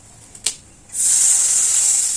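A brief tap, then a sudden loud, steady hiss and sizzle as water hits a hot pan of lightly fried brinjal for kuzhambu, continuing strongly to the end.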